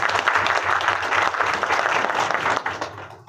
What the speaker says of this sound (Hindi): तो ऐसे महानुभाव के लिए मैं आप लोगों से कहता हूं कि जोरदार तालियों का स्वागत।